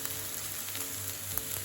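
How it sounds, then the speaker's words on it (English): Garlic sizzles in a hot pan alongside sauteed onions, a steady soft crackling hiss with faint pops, heard close and without talk. "Now we throw in our garlic"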